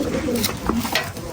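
Pigeons cooing near a doorway at a home, a couple of soft throaty coos in quick succession, close and clear over a faint background hum, with no speech.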